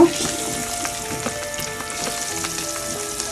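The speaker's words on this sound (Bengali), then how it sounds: "এখন আমি মাছগুলো দিয়ে দিব ভাজার জন্য" Pabda fish sizzling and spattering as it fries in hot oil, a steady close crackle with scattered pops and a short stronger burst at the start.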